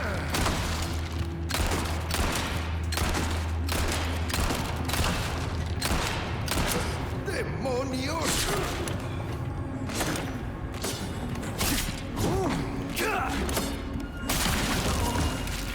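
Rapid gunfire in Resident Evil 4, a steady stream of sharp, close shots and thuds repeating throughout amid constant game noise and action.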